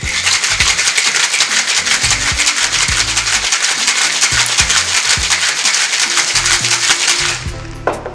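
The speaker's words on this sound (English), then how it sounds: "pour it off, and let's shake." Ice rattles hard inside a cocktail shaker mixing a non-alcoholic Jamaican rum punch in a fast, steady rhythm for several seconds, loud and close, then stops.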